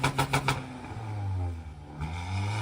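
Audi A3 with a 2.0 turbo engine revved in a few quick blips, followed by a sustained rising and falling engine drone, fairly close and moderately loud.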